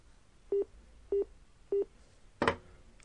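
Telephone dialing tones while placing a call: three short, evenly spaced keypad beeps, followed by a louder, broader burst of line sound.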